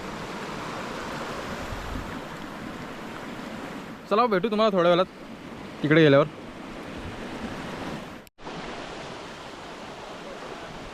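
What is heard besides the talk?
water of Dhekale dam lake, people bathing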